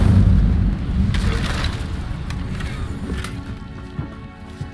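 A fiery spell is cast in a Harry Potter video game, giving a loud rumbling whoosh and boom that fades over several seconds, with a few faint pops and steps near the end.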